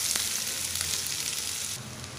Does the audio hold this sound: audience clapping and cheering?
no